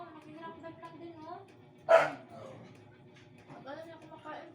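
A single sharp dog bark rings out clearly amid quiet background chatter and soft voices.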